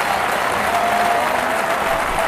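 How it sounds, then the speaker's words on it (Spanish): A crowd applauding a padel point, dense sustained clapping from many spectators filling the whole stretch at an even, loud level. "Algunos se ponen en pie para aplaudir el esfuerzo de estos cuatro monstruos del pádel."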